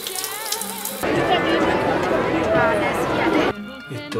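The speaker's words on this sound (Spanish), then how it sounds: "Esto así sale el agua en este preciso momento." Muddy, ochre-coloured water gushing from a shower in a house in a neighbourhood with no clean water supply, a steady loud splashing rush that starts abruptly, with a person talking over it.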